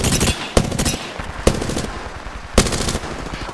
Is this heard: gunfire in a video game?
yes